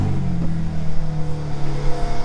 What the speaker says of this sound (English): Let me just fire this up for a second.